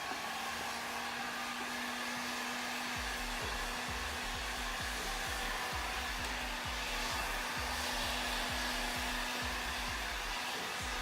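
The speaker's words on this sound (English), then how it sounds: "You get the heat gun too close, it makes the paint bubble" A heat gun blowing hot air to strip paint roars with a steady, close, continuous whoosh and a constant whine, while faint repeated thumps and ticks sound underneath.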